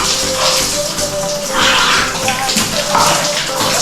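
A shower runs with a continuous, close rush of water from start to finish, with a steady hiss and some fluctuation in the spray.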